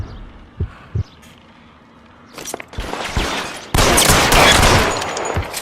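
Gunfire in the video game L.A. Noire: a couple of isolated sharp shots early, then a dense, loud barrage of overlapping shots building into sustained fusillade-like bursts toward the end.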